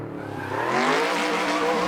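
A car drifting on a mountain road in Assetto Corsa, engine climbing in pitch as revs build while the tires skid and squeal, growing louder after the first half second.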